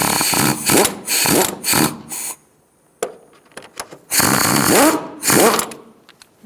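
Bolts on the engine mount of a 2012-2017 Hyundai Accent 1.6L four-cylinder are snugged up with a power tool, giving several loud, close, whirring bursts separated by short pauses and light metallic clicks.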